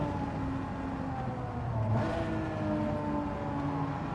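A TVR sports car engine in a racing video game holds a steady mid-pitched drone with a brief swelling rev midway, moderately quiet, with no voices over it.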